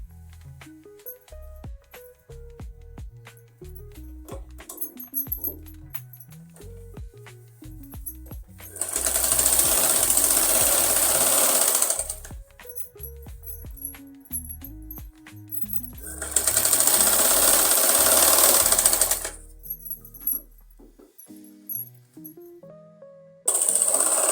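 A sewing machine stitches a garment seam in a curve, running in two loud sustained bursts separated by quieter handling and fabric sounds.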